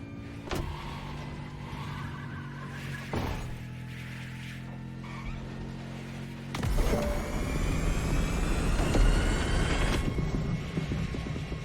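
Bugatti hypercar concept driving in The Crew Motorfest, a steady engine hum broken by sharp transient clicks, then a sudden louder surge of revving and rushing noise in the second half.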